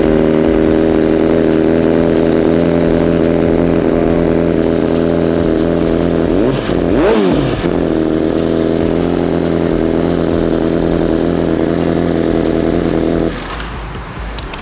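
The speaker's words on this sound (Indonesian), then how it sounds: "Ini dia suara BMW M1000 RR." A warmed-up BMW M1000RR superbike idles loudly and steadily up close, with one sharp throttle blip rising and falling midway. The engine then drops away near the end.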